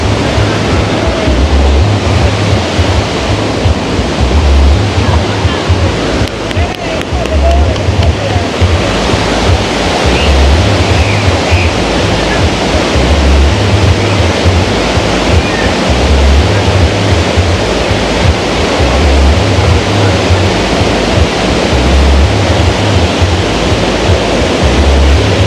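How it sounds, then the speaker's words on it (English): Waves wash in steadily where a river meets the sea, a loud continuous roar of surf with rhythmic swells, close and dense, with wind buffeting the microphone. "So this is where the river meet the sea."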